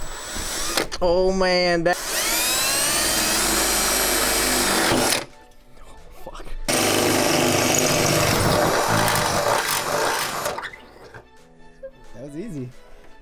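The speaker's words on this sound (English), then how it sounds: "Try to drill as straight as I can." A power drill bores through the metal hood of a Honda S2000 while AeroCatch hood latches are fitted, giving a loud sustained whine in two long runs with a pause between them, plus brief spoken remarks.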